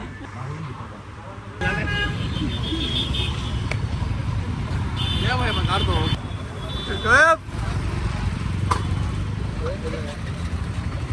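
A car driving along a road with other traffic, several honking horns and a steady road rumble, while people talk inside throughout.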